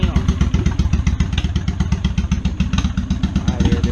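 A Honda Shadow 750 motorcycle fitted with a new exhaust runs loud and close inside a garage, its engine beating in a steady, lumpy rhythm that holds for the whole stretch.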